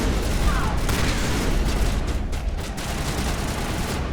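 Grenade blasts and gunfire in Mass Effect 1 Legendary Edition rattle in a dense, loud combat din, with sharp shots and booms scattered throughout.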